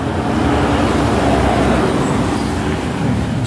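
A used 1-ton Sakai baby road roller idles with its engine running, a steady, loud, close rumble and broad mechanical drone with no pauses.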